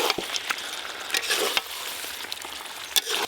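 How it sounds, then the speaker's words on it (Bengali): A spoon stirs chicken curry with spices, chilli, salt and turmeric in a hot pan, making scraping, sizzling clatters with sharp strokes at an irregular rhythm, close and fairly loud, with no voices. "এবার এই সব কিছু একসঙ্গে ভালো করে মিশিয়ে নেব।"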